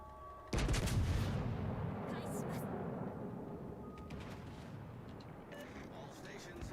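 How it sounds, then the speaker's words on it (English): Heavy naval gunfire from World of Warships: Legends opens with a loud booming salvo, then a long rumbling roar that lingers and slowly fades, with game voice chatter underneath. "All stations requesting fire on the designated target."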